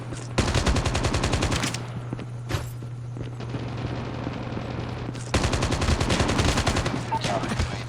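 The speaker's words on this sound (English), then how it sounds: "So let's see what we can do with this minigun here." A minigun firing in the mobile shooter Call of Duty Mobile: two long, rapid bursts of dense, rattling fire with a short gap between them, over a steady low hum, loud and close.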